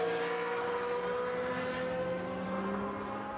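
A race car roars down the Hangar Straight at the Silverstone circuit during a historic racing festival, its engine note droning steadily with a slowly rising pitch, heard from a moderate distance.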